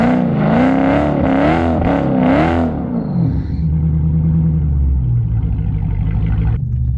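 A car on Mickey Thompson ET Street tires revs loudly in several rising and falling bursts, then settles into a lower rumbling idle.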